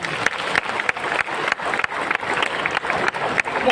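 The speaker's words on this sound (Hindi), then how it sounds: "एक बार जोरदार ताली।" A crowd at a Janmashtami public gathering gives a steady burst of clapping. Many close hands patter dense and bright for several seconds with no talk.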